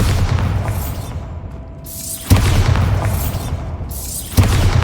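Bombarda spells cast in Hogwarts Legacy explode in two sharp, deep booms a couple of seconds apart, each followed by a rumbling decay, loud and close with no voices.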